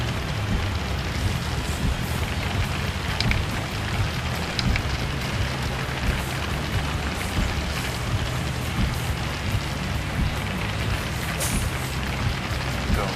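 Rain in the truck-driving game 18 Wheels of Steel: Across America, a loud, steady hiss of rainfall mixed with a low, constant engine drone running throughout.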